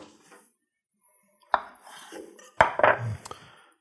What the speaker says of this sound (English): next up is some hard-boiled eggs. I have two here. I'm just gonna cut them into quarters.